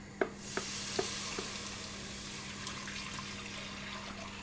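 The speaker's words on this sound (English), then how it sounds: "we will pour in our warmed milk into the mixture, and this will thicken" Warmed milk poured into a simmering butter and flour roux for macaroni cheese, a steady soft sizzling wash with a few small clinks near the start, continuous and close with no talk.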